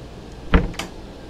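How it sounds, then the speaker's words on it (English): A drawer on a Riviera 6800 Sport Yacht slides and bumps shut with a single close thud, followed by a lighter click, in a quiet interior. "Drawers all the way along here."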